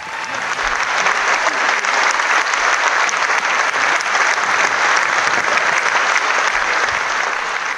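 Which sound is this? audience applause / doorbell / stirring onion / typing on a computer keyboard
audience applause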